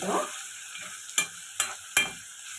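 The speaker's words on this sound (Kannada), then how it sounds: "ಫ್ಲೇಮ್ನ ಲೋನಲ್ಲಿ ಇಟ್ಕೊಂಡು ಫ್ರೈ ಮಾಡ್ಕೊಳ್ಳಿ" Pineapple pieces fry gently on a low flame for a pineapple gravy, a soft, quiet sizzle broken by three sharp spoon or spatula knocks against the pan near the end.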